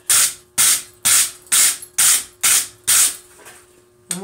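A metal file works a vice part by hand in eight sharp, evenly paced rasping strokes about half a second apart, loud and close, each stroke ending abruptly, with no voices.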